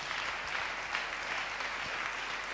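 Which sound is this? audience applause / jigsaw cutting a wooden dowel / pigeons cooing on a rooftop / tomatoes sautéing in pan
audience applause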